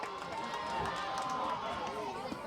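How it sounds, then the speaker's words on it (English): A softball crowd at a Columbia girls' game roars after a strikeout, a sustained, fairly loud wash of cheering and chatter lasting a couple of seconds. "Huge strikeout for Shoop as the Columbia crowd roars."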